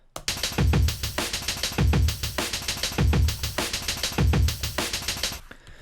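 Breakbeat drum samples sequenced in Tidal, five samples spread across eight steps so some repeat, playing as a loud, tight looping pattern of kicks, snares and hi-hats with a steady rhythm, no voices.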